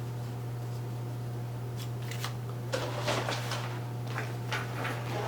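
Soft, quiet snipping and rustling of scissors cutting paper, several short crisp cuts clustered together over a steady low electrical hum.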